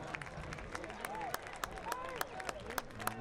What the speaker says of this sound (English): Crowd appreciates the effort.